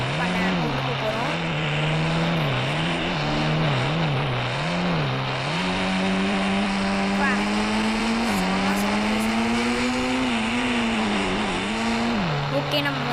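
A car being test-driven in the Indian Bike Driving 3D game, its engine droning steadily and rising and falling in pitch as it revs, loud and continuous throughout.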